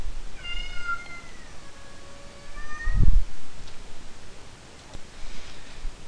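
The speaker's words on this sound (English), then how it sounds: "I apologize for the cat noise." A cat meows indoors in a few drawn-out, wavering calls, followed by a single dull thump and quiet background ticking.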